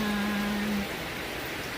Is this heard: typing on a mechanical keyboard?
no